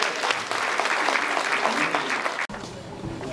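Audience applause at a church gathering, steady close clapping that cuts off abruptly near the end, leaving quieter room sound.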